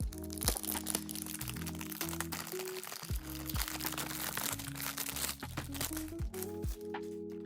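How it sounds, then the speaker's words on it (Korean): La Mer cosmetics packaging torn open up close, with sharp cracks and crinkling plastic and paper crunches in irregular bursts over background music, and no talking. "제가 한번 뜯어볼게요"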